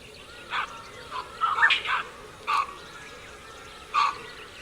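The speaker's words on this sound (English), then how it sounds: "The barks of the baboons transform a concealed ambush into an" Baboons in the wild give a series of about six sharp, distant barks, some doubled in quick succession, spaced irregularly over faint background hiss.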